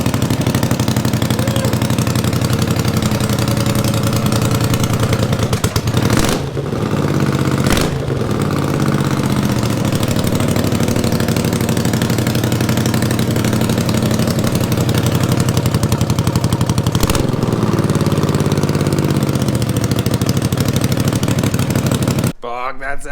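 A 500cc racing lawn mower engine runs loud and steady throughout, a close, constant idle with a couple of brief dips and blips partway through.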